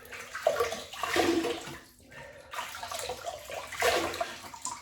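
Water splashes and runs at a sink while a face is wetted before a shave with a Gillette Slim Adjustable razor, in uneven close bursts with brief pauses.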